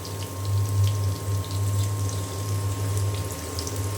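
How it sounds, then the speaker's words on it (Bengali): Water is poured into a pan where hilsa fish is cooking, a steady close splashing flow over a low constant hum. "পানি দিয়ে দিলাম।"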